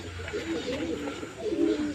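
Pigeons coo softly while pecking at grain scattered close to the hand, low murmuring calls repeating through a couple of seconds of steady background noise.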